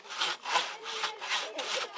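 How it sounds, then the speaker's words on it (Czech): A hand saw cuts through the wooden trunk of a felled maypole at an outdoor village event, with steady, close back-and-forth rasping strokes, about six in a quick, even rhythm, and no talking. "Tak kdo ještě chce řezat?"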